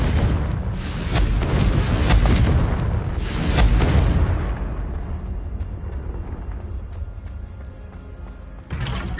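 A Bombarda spell blast in Hogwarts Legacy: two loud, deep booming explosions about two seconds apart with rolling rumble, then a decaying debris rattle and scattered clatter, ending with a sudden new burst.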